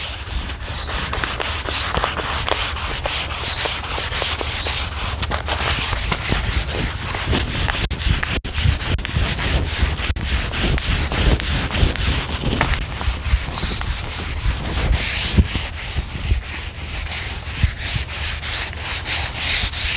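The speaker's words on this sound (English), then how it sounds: "I'm going to smooth everything out where I've sanded with the rougher sandpaper" Sandpaper rubbed on wooden staircase spindles to smooth them, a continuous close, loud scratchy rasp that keeps a steady back-and-forth rhythm.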